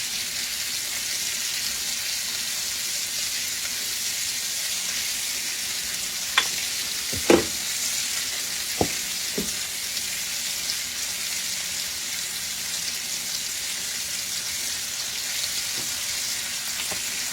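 Zucchini, mushroom and onion sauté in olive oil and butter with a steady, close sizzle, broken by a few sharp clinks of a utensil against the pan near the middle.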